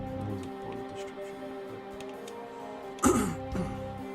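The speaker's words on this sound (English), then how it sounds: "Sorry about clearing my throat like that" A man gives a short, rough throat clearing close to the mic while playing Final Fantasy VI Pixel Remaster, a sharp burst followed by a smaller rasp, over quiet game music.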